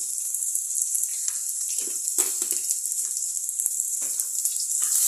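Sliced large onions with salt sizzle softly as they sauté in a clay pot for fish curry. The hiss is steady and close, with occasional faint crackles and no talking.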